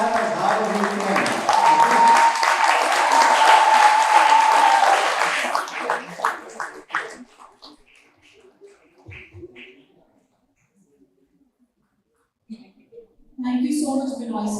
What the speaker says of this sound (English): time for you to clap as hard as you can